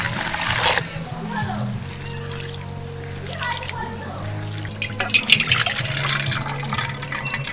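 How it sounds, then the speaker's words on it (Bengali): Sago pearls being washed with water in a large bowl, giving a steady close sloshing and splashing of liquid throughout, with a voice talking over it. "এবার এই সাবুটাকে 2 থেকে 3 বার ভালোভাবে জল দিয়ে ধুয়ে নেব।"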